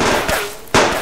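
Gunfire in the co-op survival shooter game Subsistence: two sharp broadband shots about half a second apart, loud and close, with a faint tonal whine between them and no talk.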